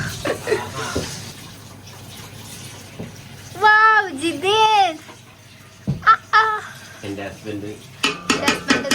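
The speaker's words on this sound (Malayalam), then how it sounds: "പാത്രം കഴുകിയാണ്." Dishes clatter and clink under running water in irregular bursts nearby, while people talk in between.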